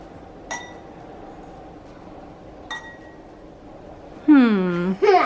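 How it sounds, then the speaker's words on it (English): A metal spoon taps glasses filled with different amounts of water, giving two separate bright clinks with ringing tails, followed by someone speaking close by. "she's going to tap each glass"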